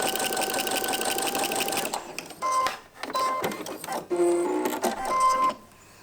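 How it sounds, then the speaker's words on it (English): A sewing machine stitches a seam along fabric with interfacing, whirring loudly and steadily at first, then running in several short stop-start bursts, close by with no talk. "And we'll just sew this seam."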